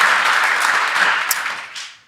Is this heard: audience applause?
yes